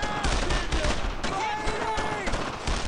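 Gunfire in the World War II shooter Brothers in Arms: Road to Hill 30, a dense crackle of rifle and automatic shots in quick bursts, with shouted voices mixed in.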